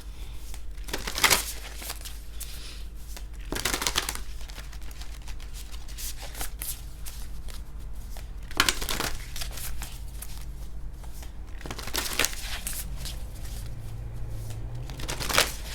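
A deck of tarot cards being shuffled, heard as several brisk, crisp riffling bursts spaced apart, close and clear over a quiet background hum.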